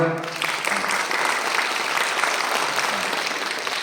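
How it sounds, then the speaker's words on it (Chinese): Steady applause from an audience in a library lecture hall after a talk on Shang dynasty jade, a dense even clatter of many hands clapping throughout. "我们再次用掌声，谢谢唐老师。"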